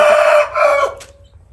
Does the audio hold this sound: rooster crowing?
yes